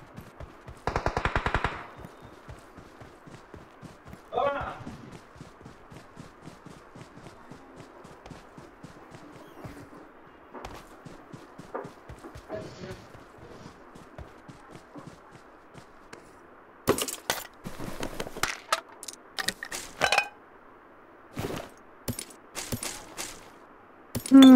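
Video game gunfire comes in rapid automatic bursts and scattered single shots, mostly at a distance, with quieter shuffling and footstep-like sounds between them. A dense cluster of loud, sharp shots arrives near the end.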